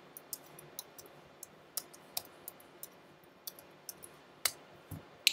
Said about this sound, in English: Let's type it again.